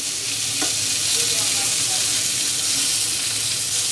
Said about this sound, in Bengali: আমি আরো বেশ কিছুক্ষণ মাছটা লাল লাল করে একটু ভেজে নিব